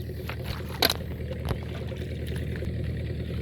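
A small dinghy is pushed with a pole across a shallow fish pond, soft water splashes and knocks against the hull over a low, steady background, with one brief sharper splash near the start.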